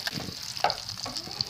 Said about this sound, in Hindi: यहाँ देख सकते हैं कि ये कुक हो रहे हैं मटन शामी कबाब, ये एक साइड से कुक हो चुके हैं